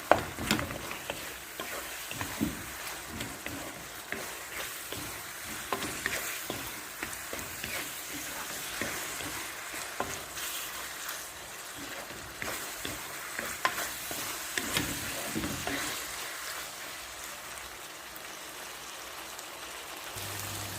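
A spoon stirs sambosa meat filling seasoned with Maggi cube in a pan, giving a soft, continuous scraping and sizzling with irregular stirring strokes, fairly quiet and with no voices.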